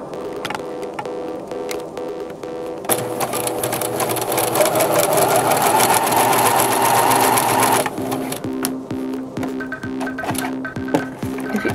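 A sewing machine stitches a zigzag seam in one steady, loud five-second run of rapid whirring, framed by clicks and handling noises before and after.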